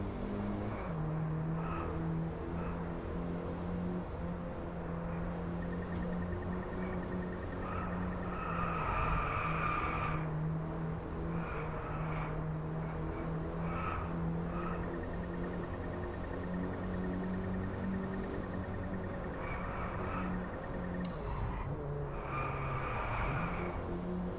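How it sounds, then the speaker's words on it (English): In the video game Driveclub, an Audi A1's steady engine drones throughout with a thin, high turbo whine rising and falling over it, mechanical and continuous. "Hear the turbo."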